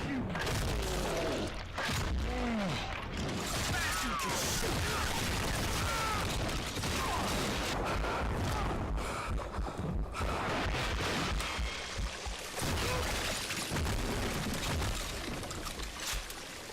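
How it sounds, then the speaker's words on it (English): A sawn-off shotgun in Call of Juarez: Gunslinger fires in heavy booming blasts amid dense game noise of gunfire and clatter, loud and repeated through the stretch. "this sawn-off shotgun is pretty fun"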